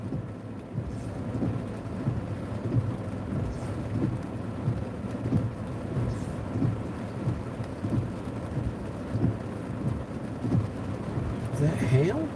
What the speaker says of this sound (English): There's definitely some hail.